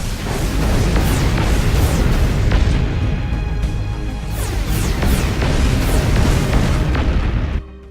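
Viper missiles launch and detonate in the robot combat game Robocraft, producing a dense, loud, continuous barrage of booming explosions and blasts that cuts off abruptly just before the end.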